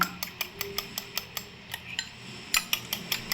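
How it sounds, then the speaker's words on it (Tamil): Eggs are beaten in a bowl with a spoon for a Chennai-style egg dish, giving quick light clinks of metal on the bowl in an uneven rhythm, close and fairly quiet. "ஸ்போக்கை வச்சு நல்லா மிக்ஸ் பண்ணிக்கோங்க"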